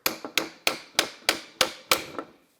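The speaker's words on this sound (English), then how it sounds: "so let me just get a little hammer." A small hammer gently taps a windshield wiper motor and transmission on a 2001-2007 Toyota Highlander, with eight sharp metallic knocks falling at a steady, even rhythm, close and clear with no talk.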